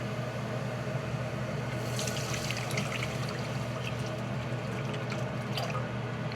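Water runs and trickles steadily into a cooking pot for boiling beans, with splashy bursts over a constant background hum.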